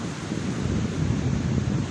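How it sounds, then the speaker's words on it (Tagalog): Strong surf breaking on a provincial beach in the northeast monsoon, a continuous wash of rushing water mixed with wind buffeting the microphone. "lakas ng alon"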